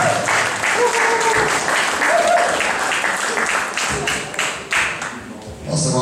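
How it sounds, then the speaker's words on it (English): An audience at a live community music event gives a ukulele orchestra a round of applause, a dense steady wash of clapping that fades toward the end, with some voices mixed in. "how about a hand for the Ukulele Orchestra from Logan City?"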